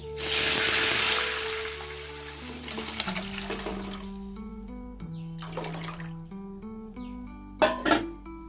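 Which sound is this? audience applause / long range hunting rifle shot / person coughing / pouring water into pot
pouring water into pot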